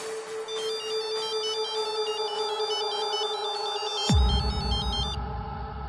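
A telephone ringtone in a dubbed South Indian film scene plays a bright, repeating electronic melody of alternating beeps over a steady tone, broken near the end by a sudden thump.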